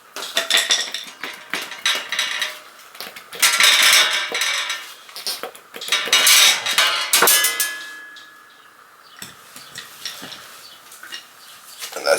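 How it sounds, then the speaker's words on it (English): Metallic clanks, scrapes and knocks from prying a rusty dual-mass flywheel off a BMW S54 engine, with irregular bursts of banging and rattling, then a quieter stretch with a lingering ring. "Now I'm going to pry the flywheel off."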